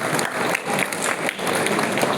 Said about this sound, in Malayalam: അയ്യോ കൈയടി തീരെ കുറവാണല്ലോ